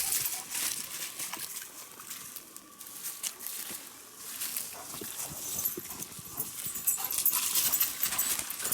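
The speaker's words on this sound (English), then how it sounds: "Crazy wet dog. Just got done swimming in the pond at the hunting cabin." A wet dog pants steadily and close by after swimming in a pond at a hunting cabin along a forest hiking trail, rapid breathing over rustling outdoor background noise.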